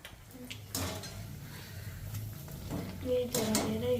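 Dishes and utensils clink and scrape during washing in a home kitchen, soft intermittent clatter with a louder burst near the end, under people talking.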